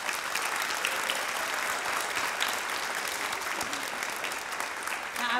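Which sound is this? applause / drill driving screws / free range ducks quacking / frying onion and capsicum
applause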